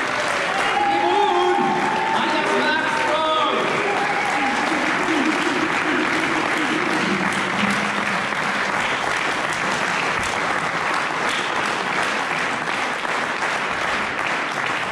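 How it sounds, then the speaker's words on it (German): Loud, sustained audience applause fills a wrestling show hall at the SCW Royal Circle René Lasartesse Memorial Cup, with dense clapping and crowd noise throughout and faint tonal voices or music in the first few seconds. "Darum bitte ich nun alle einen herzlichen Applaus für unser neuestes Mitglied."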